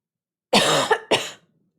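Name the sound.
cough from hot cooked vinegar fumes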